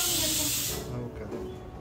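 Surmai fish frying in a hot pan gives a bright, steady sizzling hiss that is loud at first and then drops back to a softer sputter, with faint voices underneath.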